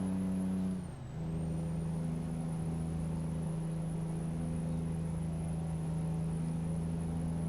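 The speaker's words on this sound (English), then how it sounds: "we'll just let the sounds of the road and everything take place" A truck drives the highway from Coldfoot to Fox, heard from inside the cab as a steady low engine drone and road hum, with a brief dip near the start and no talking.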